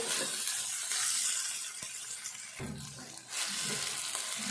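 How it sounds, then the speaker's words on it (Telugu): Ivy gourd and potato curry fries on a low flame, a soft continuous sizzle with occasional stirring scrapes and a short lull before the frying noise swells again. "కొంచెం స్టవ్ సిమ్లో పెట్టుకొని చేసుకోవాలి ఈ కర్రీ అయిపోయేదాకా ఇది కూడా కొద్దిసేపు వేగాలి"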